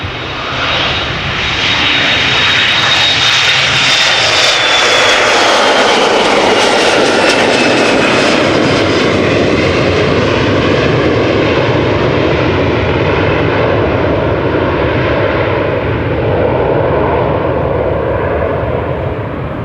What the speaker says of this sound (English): Embraer 175 to Inverness, KLM flight 901 in the meantime coming this way.